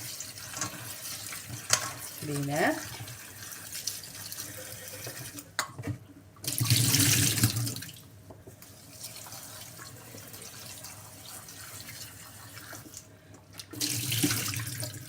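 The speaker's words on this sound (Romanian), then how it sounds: "Le trecem printr-un jet de apă, așa, le spălăm" Tap water runs in bursts over vegetables being rinsed in a kitchen sink, with quiet handling noises between the splashing flows, and someone speaks briefly.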